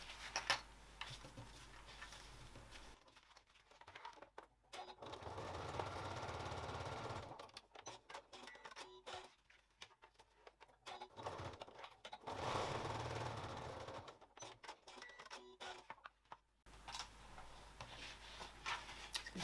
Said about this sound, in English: I'm going to baste that within the seam allowance just so nothing moves